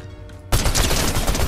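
A loud, sudden burst of rapid automatic fire from a Striker AR rifle in a shooter video game, starting after a brief quiet moment and continuing as a dense fusillade.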